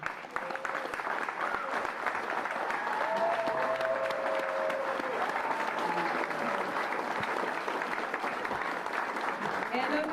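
A crowd at an elementary school dedication ceremony applauds faculty and staff in a sustained, dense round of clapping, with a few voices and cheers blended in throughout.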